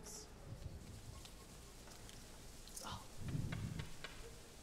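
Church vacation Bible school audience imitating a rainstorm, many people rubbing and patting to make a soft rushing patter that swells louder toward the end, with a voice talking over it.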